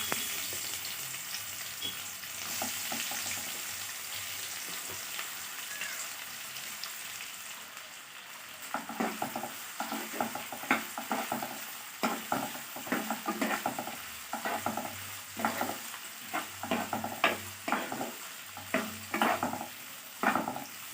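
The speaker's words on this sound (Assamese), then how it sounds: "এতিয়া এইখিনি তেলতে মই পিঁয়াজখিনি ভাজি লওঁ।" Onions frying in oil for an Assamese egg biryani, a steady sizzle with repeated stirring scrapes and crackles that grow busier partway through, close by with no voices.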